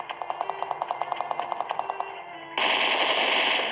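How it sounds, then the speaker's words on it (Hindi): Rapid automatic gunfire in a battle royale shooter at Pochinki, a fast regular burst of about twenty shots, then a loud sustained blast of noise at the end. "मैंने भी एकदम प्री फायर कर दिया और पूरा ही प्री फायर था वो"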